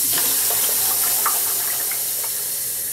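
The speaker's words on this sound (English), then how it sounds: "Now, fill with water." Tap water pouring into a gallon jug, a steady rushing hiss with faint gurgles as the container fills, close and continuous.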